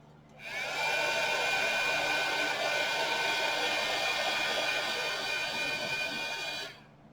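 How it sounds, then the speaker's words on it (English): A heat gun blows steadily over UV resin teddy bear key chains, giving a close, even rushing hiss that holds for about six seconds before cutting off, with no voices. "And the heat gun over it."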